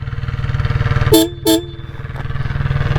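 Two short, loud blasts from an aftermarket Minda horn on a Jawa 42 motorcycle in quick succession over the steady, throbbing idle of the engine.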